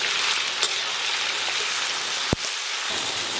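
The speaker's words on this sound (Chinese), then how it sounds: "油热后咱们把葱姜放下" Scallions and ginger dropped into hot oil in a wok, a steady loud sizzle and crackle with one sharp pop partway through.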